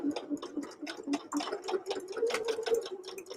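A sewing machine stitches tote bag fabric in a steady rapid run of needle clicks over a low motor hum, close and moderately quiet, with no talking.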